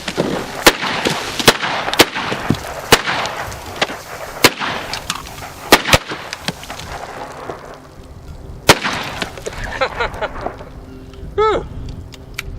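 An 1858 Remington and an 1860 Colt .44 black powder revolver fired outdoors, a rapid string of sharp cracks over the first nine seconds, then a single late shot, with people talking and calling out nearby.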